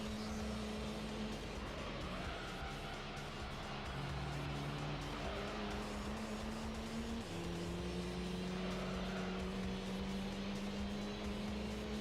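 Race car engine in a racing video game, droning steadily with rising and falling pitch through gear changes, with faint tyre squeal underneath as the car runs wide with understeer.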